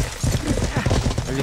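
Horse hooves clatter in a quick, uneven clip-clop during a PvP battle in the video game Life is Feudal MMO. The hoofbeats are loud and close over a dense, busy game background.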